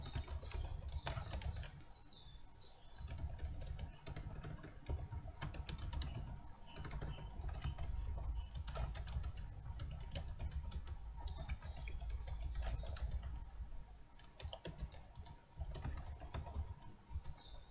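Rapid clicking of keys on a computer keyboard while entering table values, a dense steady patter of close taps with brief pauses, no talking.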